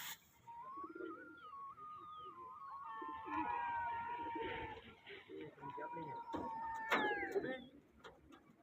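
Soft pigeon calls and cooing drift through steady outdoor background noise, with a brighter chirp near the end.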